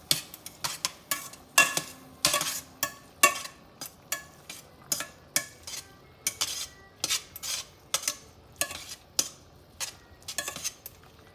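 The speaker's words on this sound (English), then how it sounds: "we're gonna add about 4 tablespoons of butter to the zucchini. And we're gonna mix that around until that melts" Butter being stirred into zucchini sautéing in a pan for spaghetti with zucchini: a steady series of close, sharp utensil scrapes and clinks against the pan, roughly one or two per second, with a faint sizzle beneath.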